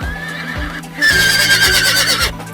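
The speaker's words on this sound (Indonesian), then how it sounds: "itu adalah suara dari kuda" Horse neighing in a loud, drawn-out whinny with a quavering pitch, preceded by quieter snorting, alone with no talk.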